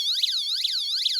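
A small KAXYUYA camera and bug detector sounds its alarm: a rising-and-falling electronic siren wail repeating about every 0.4 seconds, fairly quiet and close, with no talking.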